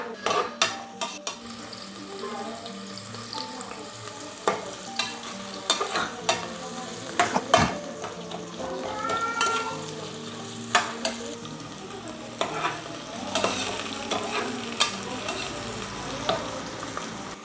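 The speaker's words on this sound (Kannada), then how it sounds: "ಈರುಳ್ಳಿ ಸ್ವಲ್ಪ ಗೋಲ್ಡನ್ ಕಲರ್ ಬರೋವರೆಗೂ ಫ್ರೈ ಮಾಡ್ಕೋಬೇಕು" Onions frying over a high flame until golden, with a steady close sizzle broken by repeated scraping stirs and the clink of a utensil against the pan, running throughout without talk.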